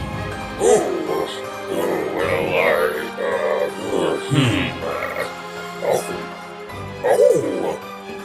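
A puppy gives several short, yappy barks and whimpers spread across the stretch, heard amid talking voices in a fighting game trailer.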